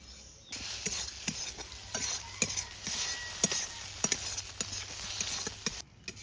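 Mutton fries in oil with spices and yogurt while a spatula stirs it, giving a steady sizzle broken by repeated sharp scrapes and clinks against the pan.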